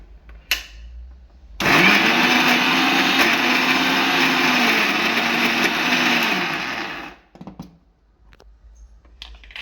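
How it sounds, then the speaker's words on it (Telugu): Mixie grinding beetroot chutney, starting abruptly with a loud, harsh whirring motor that holds steady for about five seconds, then cuts off and leaves quieter clatter and handling noises. "ఇప్పుడు దీన్ని మిక్సీ పట్టుకుందామండి."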